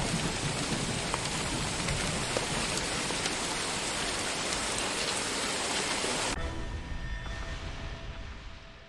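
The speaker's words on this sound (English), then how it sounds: "opening up with a torrential downpour, accompanied by the fury of lightning and the roar of" A torrential downpour hisses in a dense, steady roar of heavy rain, then abruptly thins to a softer, fading patter for the last few seconds; no distinct thunder stands out.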